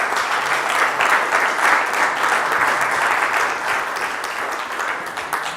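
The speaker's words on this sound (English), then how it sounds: "So big round of applause to Data Fund." A crowd applauds steadily for several seconds, a dense even wash of clapping that slowly tapers.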